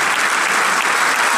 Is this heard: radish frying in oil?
no